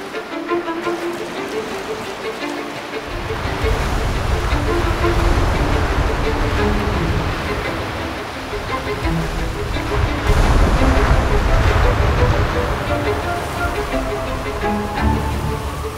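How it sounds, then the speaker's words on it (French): Sea waves crash against the rocky base of Mont Rose under a salt-laden mistral wind, loud and close, surging in repeated heavy swells with spray hissing between the breaks. "Les vagues éclatent à ses pieds et projette des milliers de gouttes"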